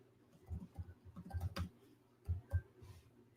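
Soft, close keystrokes on a computer keyboard tap out in short irregular bursts, a few louder clicks standing out against a quiet room.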